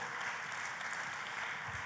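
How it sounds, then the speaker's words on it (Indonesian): Church congregation clapping for God at the end of a sermon, a dense, even wash of applause filling the hall with no voices over it. "Kita kasih tepuk tangannya yang paling meriah buat Tuhan kita"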